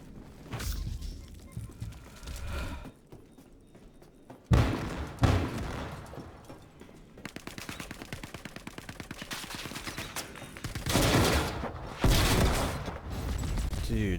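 Gunfire in the video game Star Citizen sounds as bursts of rapid shots and heavy thumps, with a quieter stretch between volleys and sustained fire later on.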